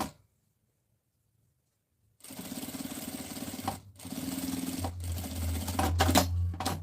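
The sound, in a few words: sewing machine topstitching below a zipper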